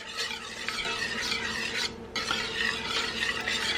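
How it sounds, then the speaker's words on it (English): Egg yolks being stirred into stiff beaten egg whites for a spaghetti soufflé, a steady close scraping and swishing of utensil against bowl that continues unbroken with a short pause midway. "We are going to stir in the yolks"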